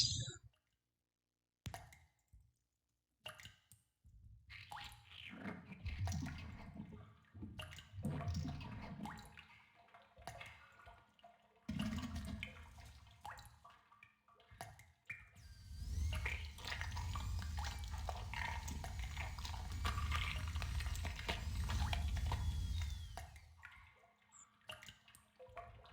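Water from the video game Harvester, with a water glass: trickling, dripping and clicking sounds that build into a steady running-water wash, close and moderately loud, with no talk.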